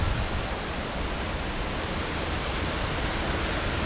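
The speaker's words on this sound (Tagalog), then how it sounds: "makikita po natin ang waterfalls dito" Broad, steady rushing of a waterfall in Fujairah, United Arab Emirates, a constant wash of falling water at moderate level with no voices.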